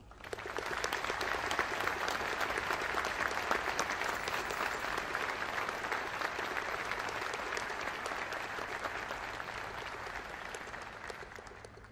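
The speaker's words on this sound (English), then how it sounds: "applause." Sustained audience applause for veterans at a Veterans Day ceremony at Arlington National Cemetery, a dense, even wash of many hands clapping that swells and then slowly fades, heard from a distance.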